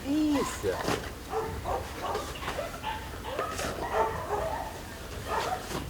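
Dogs at a sterilization center housing over two hundred rescued and evacuated dogs, with a sharp bark and whine at the start followed by scattered nearby yips and whimpers while people talk.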